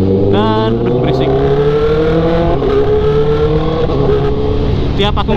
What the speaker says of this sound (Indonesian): Tiap aku ngegeber tuh suara motor tuh kayak lebih kenceng gitu.